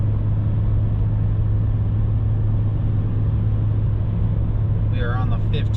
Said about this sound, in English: We are on another little hill climb here. Once again, holding 72 miles an hour